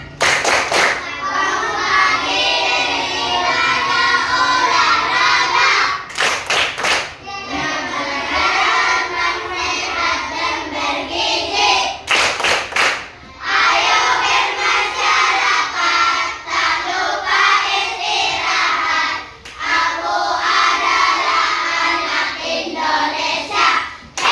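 Schoolchildren in an Indonesian class perform a rhythmic clapping chant, loud bursts of sharp hand claps alternating with group chanting voices, close and continuous.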